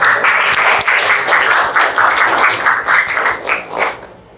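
Loud applause from a classroom audience after a presentation, many hands clapping rapidly and close by, then tapering off at the end.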